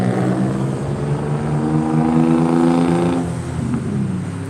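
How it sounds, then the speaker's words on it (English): Loud vehicles passing outside make a sustained low engine rumble that swells and slowly fades, filling the room with no voices over it. "sorry about that, loud vehicles"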